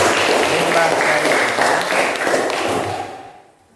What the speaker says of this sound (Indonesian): tepuk tangan dulu untuk kelompok limbah cair